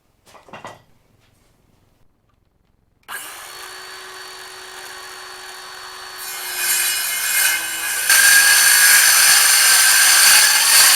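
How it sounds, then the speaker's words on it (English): A circular saw starts up and cuts through wood for temporary stairs, a loud steady whine that grows harsher and louder as the blade bites in, after a few quiet handling knocks at the start. "cut that out with the circ saw"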